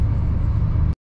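A passenger bus idling at a bus station before heading to the airport, a steady low engine drone close by that cuts off abruptly, no voices.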